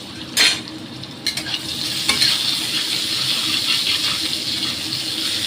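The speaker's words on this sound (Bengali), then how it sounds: "আম ভাজা হচ্ছে," Raw mango pieces frying in hot oil over a high flame, a steady loud sizzle with a few sharp crackles and pops near the start, close and without talk.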